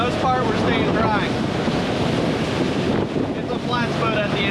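Strong 10 to 15 mph wind buffets the microphone over choppy, slapping water as a small flats boat pushes through rough waves, loud and constant throughout.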